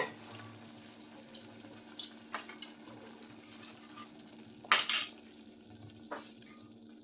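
A spoon stirring thickened Manchurian sauce in a pan: scattered light metallic scrapes and clinks against a faint steady hum, quiet and close, with no talking.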